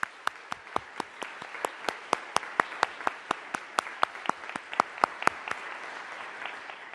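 A round of applause from an audience at a commemoration of the 70th anniversary of Brown v. Board of Education, with sharp individual claps standing out over a steady wash of clapping that holds for several seconds.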